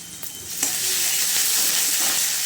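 Ginger paste frying in a pan with salt and green chillies, a loud, dense sizzle that swells after a few stirring clicks and then holds steady and close, with no voices.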